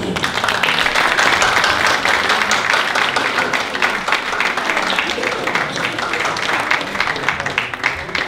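A large audience at a Christmas folk concert breaks into loud, sustained applause for a dance performance, a dense continuous roar of clapping that holds steady for several seconds.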